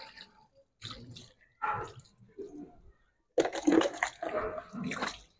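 Water is poured and splashes in uneven bursts while a deceased body is washed during a ritual funeral bath. The close, intermittent gushes are separated by brief pauses, and the longest pour comes near the end.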